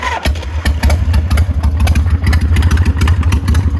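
A 1986 Harley-Davidson FXRS motorcycle fires up and settles into a loud, close, lumpy idle with a steady uneven thump, heard alone without talk.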